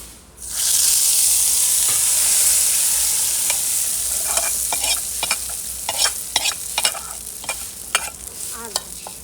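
Fried pakoras are stirred into kadhi in a pot: a loud steady sizzle comes first, then a run of spoon scrapes and clinks against the pot at an irregular rhythm.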